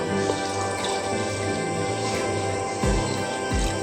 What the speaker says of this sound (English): Now you add around 300 ml of water.